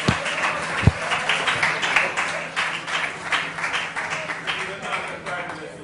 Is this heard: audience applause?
yes